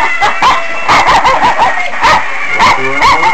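A dog barks and yips repeatedly in quick bursts, loud and close, with people talking faintly in the background.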